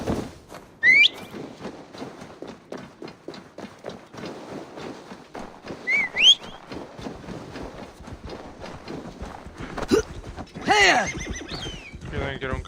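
A horse in Assassin's Creed Valhalla whinnies in short high bursts a few times, with hoofbeats and game ambience underneath while someone talks throughout.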